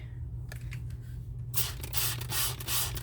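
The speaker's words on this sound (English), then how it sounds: "And I'm using the spray bottle." A few quick hissing bursts from a spray bottle misting resin, in succession, close and fairly loud, over a steady low hum.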